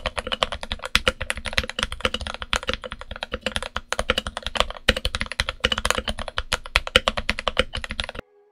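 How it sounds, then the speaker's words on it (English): Rapid, steady typing on a modded Redragon K530 Pro mechanical keyboard fitted with Gateron Milky Yellow switches and double-shot PBT keycaps, a dense run of close, crisp keystrokes with no talking. "here's a quick sound test of the fully modded keyboard with the Gateron Milky Yellow tops and the double shot PBT keycaps"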